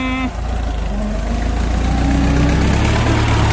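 A Ford 6640 tractor engine rumbles steadily up close while ploughing a field, loud and continuous, with a low vibrating drone that holds throughout.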